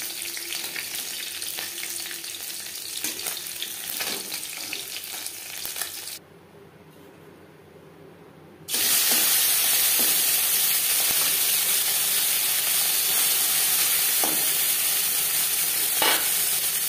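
Nigella seeds (black cumin) sizzle in hot mustard oil in a wok used to fry fish, a steady loud frying hiss that softens for a couple of seconds before surging back louder and continuing.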